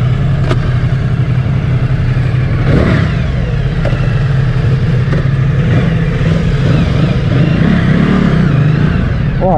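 A Ducati Multistrada 1260 motorcycle accelerates hard in sport mode, its engine droning loud and steady throughout, heard close from the rider's position with heavy wind and road noise.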